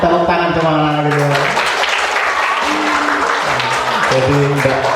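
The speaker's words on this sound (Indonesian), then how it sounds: "Tepuk tangan sama anak-anak gitu." Applause from a group at a primary school farewell ceremony mixed with loud voices and cheering, with people talking and shouting over the clapping throughout.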